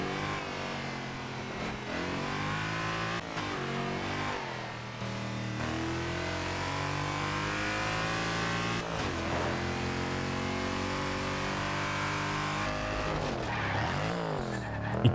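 A Mercedes C63 AMG revs hard in Forza Horizon 2, its special exhaust giving a deep bassy growl. The engine sound is loud and continuous, climbing and dropping in pitch through repeated throttle blips and gear changes, with no talk.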